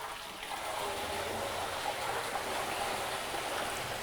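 Liquid pouring steadily from a drum tipped on a stainless steel manual drum tipper into a vessel, a continuous close splashing and rushing that stays even throughout.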